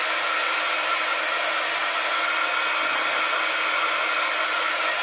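A hair dryer runs continuously at close range to dry paint on a craft project, a steady even hiss and whir with no pauses or talk.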